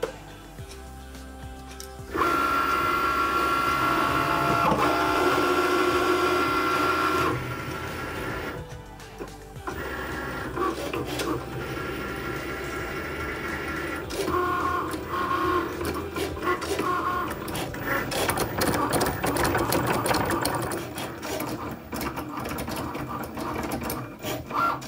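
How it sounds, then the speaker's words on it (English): A Cricut cutting machine cuts vinyl with a loud, steady mechanical whirring and buzzing that starts abruptly, pauses briefly, then resumes with shifting motor tones. "We can press on the flashing C and then the Cricut will cut the vinyl."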